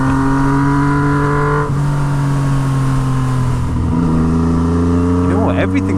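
A Yamaha MT09 motorcycle fitted with a straight-pipe Toce exhaust runs close by with a loud, steady droning engine note that shifts pitch as the revs change and climbs toward the end.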